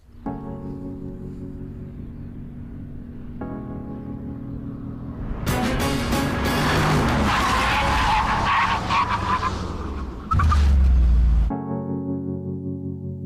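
A McLaren SLR braking hard from 120 mph: steady close engine drone, then a loud surging burst of tire skid and roar that peaks, cuts out briefly and ends in a low rumble.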